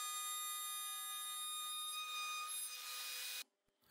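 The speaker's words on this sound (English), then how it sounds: "for the channel, I'll start with a jigsaw and finish the process with a router table." A jigsaw cutting a channel in wood gives a steady, high, tonal motor whine for about three seconds before stopping abruptly.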